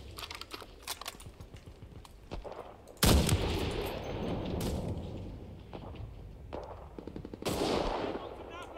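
Gunfire in the World War II shooter Enlisted: bursts of automatic fire crackle close and loud, with a heavy volley starting around three seconds in and later flurries, over steady battlefield din, with faint talk in the background.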